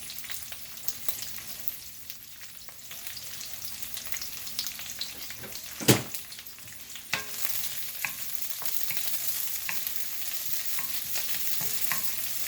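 Chinese long beans cut into short sections are stir-fried in a hot pan, a continuous near sizzle broken by sharp scrapes and tosses of a utensil, one loud clatter midway, with no one speaking.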